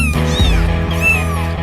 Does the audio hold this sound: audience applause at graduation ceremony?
no